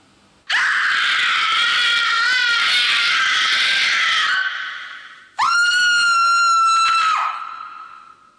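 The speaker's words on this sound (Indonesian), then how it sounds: "teriakan tersebut kembali terdengar" Two long, shrill screams used as a sound effect in a narrated Indonesian horror story, the first wavering and harsh, the second higher and more sustained, both loud and close with no speech.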